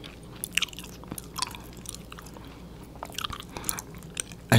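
Gum chewing close to the microphone, soft wet smacks and clicks in an irregular rhythm, quiet with a faint background hiss.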